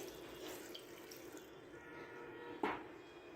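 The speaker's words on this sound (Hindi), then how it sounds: "साथ हम यहाँ पे थोड़ा सा पानी ऐड करेंगे" Water poured into a tamarind and spice mixture in a home kitchen gives a soft continuous trickling splash with a small gulp near the end, quiet and with no talk.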